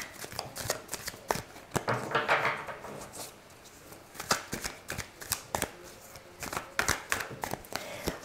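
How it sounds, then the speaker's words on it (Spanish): Tarot cards being shuffled by hand at close range, a steady run of crisp riffling snaps and soft slides with brief pauses between bursts, no voices over it. "vamos a terminar de barajar bien las cartas."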